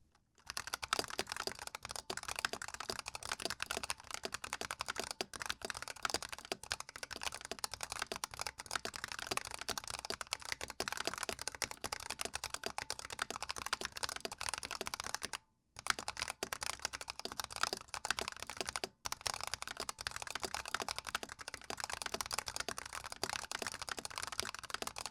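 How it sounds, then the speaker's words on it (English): Fast, continuous typing on a Razer Huntsman V2 Analog keyboard with black Razer optical analog switches, giving close, dense, deep keystroke clatter with only two brief pauses and no voices. "this keyboard has a very nice thock noise that's very satisfying to listen to"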